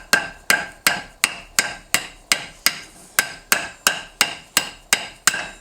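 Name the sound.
hammering a punch to stretch a coin ring on a mandrel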